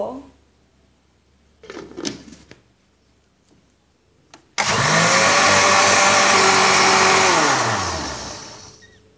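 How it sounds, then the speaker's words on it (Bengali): A countertop blender whirs loudly for about four seconds, blending a Bangladeshi yogurt drink (doi shorbot) of yogurt, sugar, salt and water, then winds down; lid handling and small clatter come before it starts. "এবার ঢাকনা দিয়ে ঢেকে ব্লেন্ডার মেশিনে ব্লেন্ড করে নিব।"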